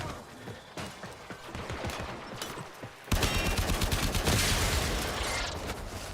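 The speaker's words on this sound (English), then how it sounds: "Oh, it's a turret." Turret gunfire in Warframe, with rapid repeated shots that grow louder and denser halfway through into a sustained near barrage.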